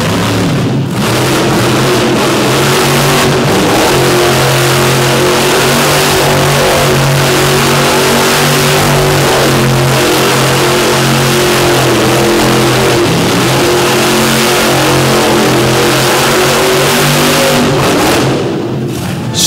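A powerful racing truck engine roars and revs continuously at close range during a race in Davie, Florida, its heavy rumble rising and falling with throttle changes.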